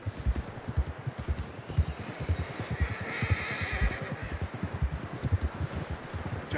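A horse whinnies in Red Dead Redemption 2 over steady clip-clopping hooves and rustling, the neigh rising briefly in the middle of a continuous trotting rhythm.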